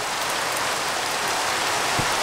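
A dense, steady hiss of rain falls in a video game, loud and unbroken throughout.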